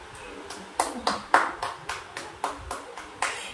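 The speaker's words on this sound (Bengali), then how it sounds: "হাততালি দিচ্ছে" Hand clapping at a small home cake-cutting celebration, about ten sharp, evenly spaced claps close by, with faint background voices.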